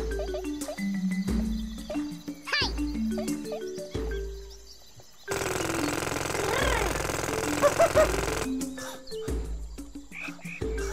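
A drill weapon in the Worms Clan Wars video game roars as a harsh, steady grinding burst for about three seconds, set among chirpy game music and cartoon sound effects.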